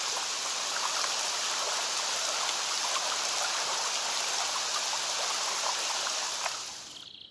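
Steady, dense rain falls on the loch at Eilean Donan Castle in the Scottish Highlands, a constant close hiss with scattered patters that fades out at the very end.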